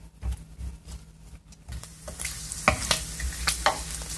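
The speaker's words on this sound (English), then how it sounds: "Now I like to cook the bacon on a medium, or about medium heat" Bacon pieces fry over medium heat in a pan and are stirred and broken up, with faint sizzling and then clear scraping and tapping strokes growing louder toward the end, close and without speech.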